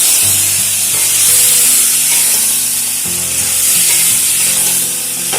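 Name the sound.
spice paste sizzling while sautéed in a kadai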